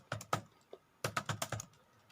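Typing C++ code on a computer keyboard, a short close burst of crisp key clicks, a pause, then a quicker run of keystrokes, quiet and with no talk.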